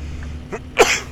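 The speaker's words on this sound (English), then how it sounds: "Oh, I'm going to sneeze." A single sharp sneeze bursts out close and loud near the end, preceded by a brief sharp inhale, from a man at home with a steady low hum in the background.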